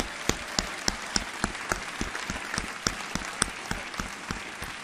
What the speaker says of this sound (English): How about another round of applause for this year's All-CIF badminton team?